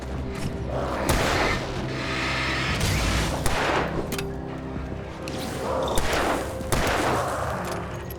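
Gunfire in Alan Wake Remastered, the game's forest combat producing repeated heavy shots and booming blasts in close succession over a dense, loud, continuous wash of sound.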